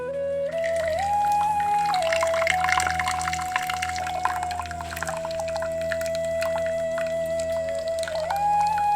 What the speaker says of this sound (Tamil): சாப்பாடு இப்ப நல்லா வெந்துருச்சு. வடிச்சு எடுத்துடலாம்.